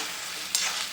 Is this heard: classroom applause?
no